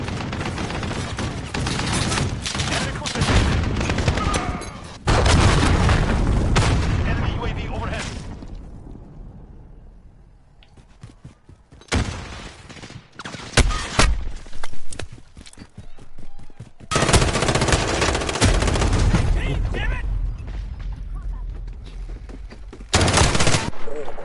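MP5 submachine gun fire in Call of Duty: Modern Warfare, loud, dense bursts of rapid shots with a short lull midway, mixed with other in-game noise.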